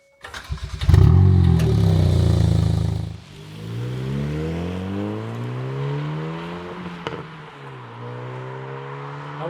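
A Hyundai i20N starts with a loud burst of revving, then pulls away on the road, its engine note rising repeatedly through gear changes in close, clear sweeps with no talk.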